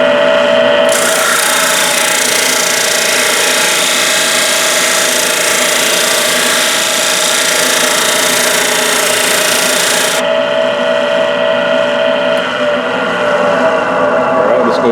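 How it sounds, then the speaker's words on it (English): A power disc sander works down a carved wooden soldier's head with a loud, continuous grinding whir. The pitch and load shift as the disc bites into the wood. "I'm going to sand that down"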